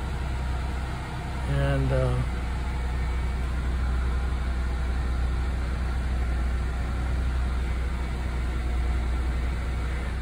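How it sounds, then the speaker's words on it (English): A Buick Regal engine idles steadily after a new fuel pump was fitted, a constant low hum with a brief voice at the start. "I put the new fuel pump in, and engine started."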